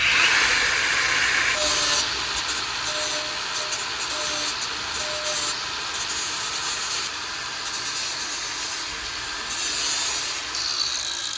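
A high-pitched abrasive whine of a grinder disc blending metal on a Ford Bronco side step, steady and close, with brief dips and surges as pressure changes.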